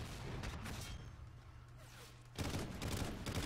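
Call of Duty: Ghosts multiplayer gunfire: bursts of rapid shots at the start, a quieter gap, then a louder dense volley near the end, with a faint voice mixed in.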